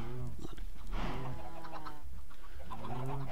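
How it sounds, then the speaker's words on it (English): Minecraft chickens cluck in short repeated bursts, mixed in with someone talking over them throughout. "Good little chicken, move your butt."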